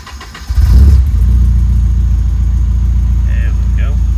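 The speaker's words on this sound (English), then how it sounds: "Alright, so start up after replacing the fuel filter, spark plug, and O2 sensor." A Nissan 240SX S14 engine cranking and firing up after a fuel filter, spark plug and O2 sensor replacement, then settling into a loud, steady close idle, with a voice briefly heard near the end.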